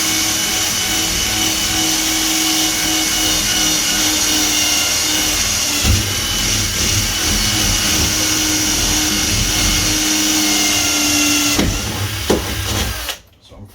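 A power drill bores through a wooden door for a handle, a loud, steady high whine that holds for about twelve seconds and then cuts off abruptly.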